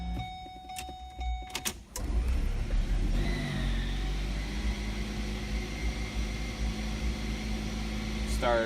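A 2008-2012 Ford Escape engine cranks and starts after some clicks, then settles into a steady low idle rumble close by, with a brief whine near the end.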